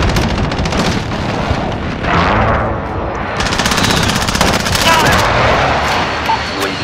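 Heavy automatic gunfire and a rumbling precision airstrike in Call of Duty: Modern Warfare, with loud bursts and explosive swells roaring for several seconds under radio-style voice callouts.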